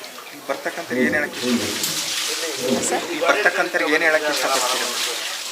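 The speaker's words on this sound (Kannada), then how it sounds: "ಈಗ 5ನೇ ಸಲ ನೀರು ಹಾಕ್ಸ್ಕೊಂತಾರೆ" Water poured over a person during a holy bath at the Pavadabasappa temple, a steady close splashing and gushing stream running throughout beneath loud, continuous talking.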